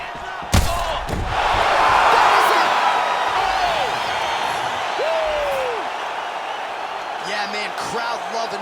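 Virtual arena crowd in the UFC 5 fighting game roars and cheers after a fight-ending shot, a loud swelling wash following a sharp thud, with faint whoops and swooping tones fading out.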